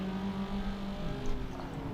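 A Proton Saga car with a turbocharged street engine runs in the BeamNG driving game, a steady droning engine tone with a whistling turbo layered over it, close and continuous for a couple of seconds without talk.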